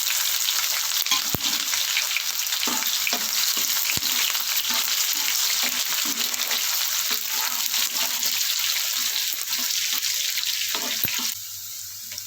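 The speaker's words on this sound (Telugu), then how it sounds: "వేగిన తర్వాత సన్నగా తరిగి పెట్టుకున్న ఉల్లిపాయ ముక్కలు వేసుకోవాలి" Thinly sliced onions fry with broad beans in a hot pan, giving a loud, steady sizzle with occasional stirring scrapes that runs throughout and eases slightly at the end.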